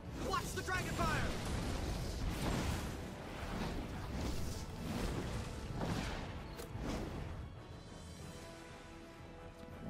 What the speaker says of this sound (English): Watch the dragon fire!